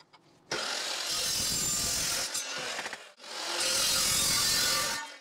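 Metal stock for a mini truck build is cut in two long, harsh rasping strokes separated by a short pause, loud and close with a gritty, continuous tone and no voices.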